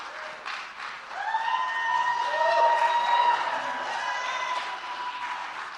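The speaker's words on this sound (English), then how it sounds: "let's give them a real good round of applause." A crowd at a climate event applauds, the clapping swelling to a steady peak and then easing slightly, mixed with a few cheers.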